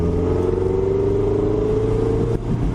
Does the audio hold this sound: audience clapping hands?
no